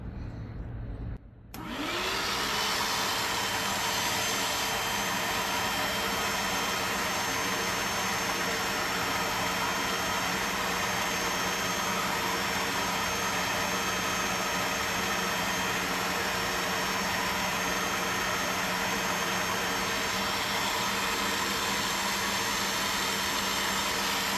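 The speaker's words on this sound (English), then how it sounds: "we'll replace this head with this so that we can just run it and it'll just suck it back up" A Bissell LITTLEgreen Machine 1400B carpet cleaner switches on after a brief quiet moment and runs with a loud, steady suction whine and motor roar that holds unchanged through the rest of the clip; no voices.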